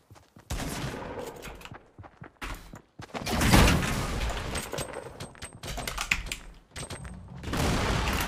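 Fortnite gameplay with a low-health player fighting inside a portable fort, with bursts of rapid gunfire and a heavy grenade blast, loud and choppy with short gaps of quiet between volleys.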